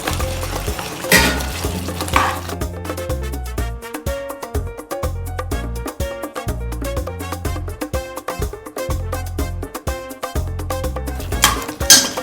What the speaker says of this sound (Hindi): मटन और पोटैटो मिक्स करेंगे।